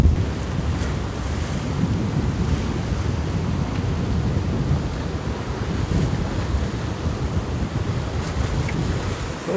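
Waves of an incoming tide wash and splash onto a beach at Ogmore in South Wales, a continuous loud roar of surf with wind buffeting the microphone throughout and no voices.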